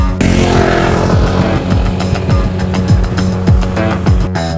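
Honda PCX 160 scooter with a 157cc four-stroke liquid-cooled single-cam engine, heard loud and close as it climbs uphill, a steady engine drone with repeated rising and falling rev sweeps and no talk.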